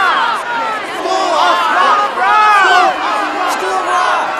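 A large crowd shouts and whoops in a School of Rock movie scene, a loud, continuous roar of many voices swelling in waves and never falling quiet.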